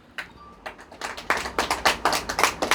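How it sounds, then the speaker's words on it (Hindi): Hands clapping in a classroom, a run of sharp claps that start sparse and quickly build into a dense, fairly close round of applause from several people. "ताली बजा रहे हैं।"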